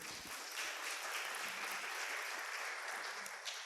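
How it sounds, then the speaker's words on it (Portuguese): Steady applause from a church audience, dense and continuous, holding at an even level for a few seconds with no voices on top. "Você pode aplaudir a Deus pela vida deles?"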